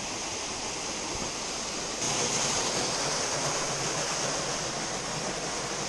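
Water flowing at the Font de les Dones spring, a continuous close rushing hiss with no talk that grows slightly louder and brighter partway through.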